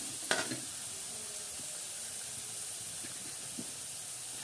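Onions and garlic fry quietly in a pan as a faint, even hiss, broken by a brief stir or clatter near the start and a soft tap later.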